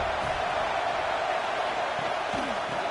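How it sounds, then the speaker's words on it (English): A vast stadium crowd of Alabama Crimson Tide football fans roars on third down, a dense, continuous wash of noise holding steady at full volume from start to finish. "The Tide crowd roaring noise down on the Saban Field on third down"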